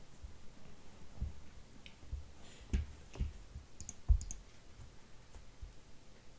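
Scattered keystrokes on a computer keyboard while code is typed, faint, irregular clicks in small bursts with quiet pauses between.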